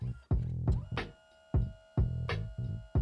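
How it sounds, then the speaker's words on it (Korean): Mechanical whirring and clunking from a Kodak Mini 3 Retro photo printer, its cartridge moving in and out in repeated bursts of motor movement separated by short pauses, close and fairly quiet. "카트리지가 나왔다가 들어갔다가 여러 번 반복되면서"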